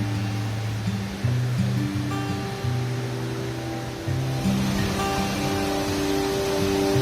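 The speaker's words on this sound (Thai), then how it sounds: "ถึงแล้วค่ะน้ำตกเจ็ดคดใหญ่ สวยงามอลังการมาก ๆเลยค่ะ" Jed Kod Yai waterfall in the forest at Kaeng Khoi, Saraburi, gives a steady, broad rush of falling water that runs unbroken, with a low hum layered underneath.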